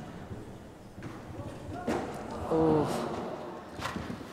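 A feisty, quick showjumping horse gallops a grand prix course, hooves thudding rhythmically at a distance beneath an announcer's commentary, with a brief exclamation partway through.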